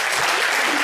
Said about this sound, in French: Et on va applaudir Alexis Dassault.